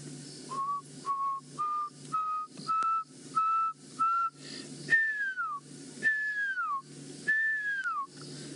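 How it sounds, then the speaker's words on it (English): A pearl-spotted owlet gives a series of clear whistled notes, first short level toots rising in steps, then longer downward-sliding whistles, repeated in a steady rhythm from moderately far away. "That's the pearl-spotted owl, a tiny little owlet that we get in this area."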